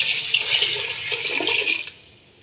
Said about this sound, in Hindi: इसमें हाफ लीटर पानी और शामिल करेंगे